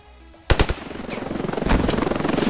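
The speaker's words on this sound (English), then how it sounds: "That's the anti-air gun." Anti-air gun firing in the Ravenfield video game: a few sharp opening shots, then a rapid, steady stream of loud automatic bursts that keeps going to the end.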